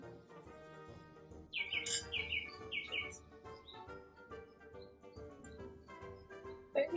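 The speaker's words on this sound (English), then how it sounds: "I bet it's riddled with birds now." Small birds chirp in the countryside in quick bright bursts of tweets, moderately near, over a faint low background murmur, with one more call at the close.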